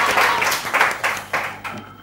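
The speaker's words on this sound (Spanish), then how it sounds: "un aplauso para el valiente" Studio audience applause on a Spanish-language quiz show, a dense burst of clapping that swells and fades in a few loud waves over two seconds with no talking.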